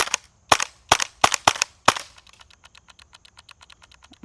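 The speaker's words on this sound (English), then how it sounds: "let's fire off our first shots" An airsoft PPK20 pistol fitted with a TAP MP5 magazine adapter fires six sharp, loud shots in quick succession. A rapid run of much fainter mechanical clicks follows, with no talking.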